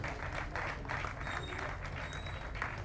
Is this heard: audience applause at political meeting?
yes